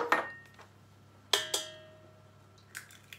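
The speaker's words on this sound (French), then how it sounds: "Donc, on va mélanger tous les ingrédients." Almond cream for a gluten-free galette des rois being mixed in a bowl, with almond powder, a whole egg and butter: a few sharp, sparse clinks of a utensil against the bowl in a quiet room.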